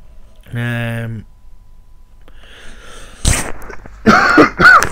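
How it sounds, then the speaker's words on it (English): A bout of coughing, with harsh bursts clustered toward the end of the clip, near and loud, following a short voiced sound and a quiet stretch. "sorry about all the coughing in this one"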